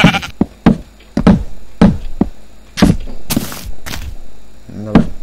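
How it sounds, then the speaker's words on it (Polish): Repeated blocky bleats from Minecraft sheep in a Polish gameplay session, a quick irregular series of loud, close game sound effects with brief hits in between and no talk over them. "Wychodź mi owco!"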